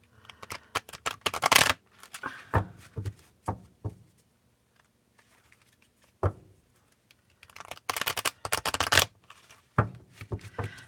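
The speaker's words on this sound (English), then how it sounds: "These are really big cards. And they are not the easiest to rifle shuffle." Bursts of oversized cards being riffle shuffled, a long rapid flurry at the start and another near the end, with softer single snaps and taps between and a quiet pause midway.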